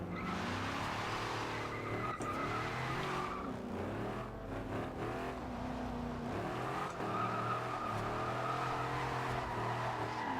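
Jeep Wagoneer drifting in Forza Horizon 2, engine revving hard and shifting through gears while tires squeal continuously, loud and close without any talk.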